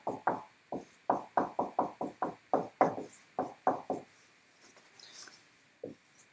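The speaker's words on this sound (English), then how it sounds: "So let's go ahead and write down SOHCAHTOA." Handwriting of SOHCAHTOA during a trigonometry lesson comes as a quick series of close, distinct pen strokes in short bursts, then pauses with a few scattered strokes.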